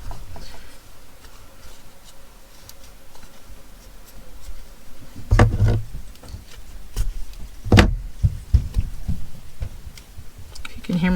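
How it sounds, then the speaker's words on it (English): Muffled thuds and bumps from children running around upstairs, irregular footfalls with a couple of heavier bangs over a low room hum; no one speaks. "You can hear my children running around upstairs."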